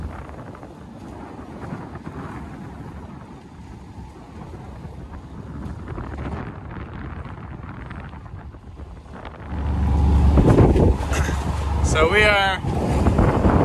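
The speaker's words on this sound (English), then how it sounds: "we are motoring out of the channel now" A sailboat motors out of a channel in a fresh breeze, with a low engine drone and rushing wind buffeting the microphone, growing louder and gustier toward the end, with a brief spoken word.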